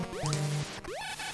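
Metroid on the NES plays bright electronic bleeps with rising pitch sweeps as shots strike invulnerable enemies, several tones in quick succession over steady game background noise.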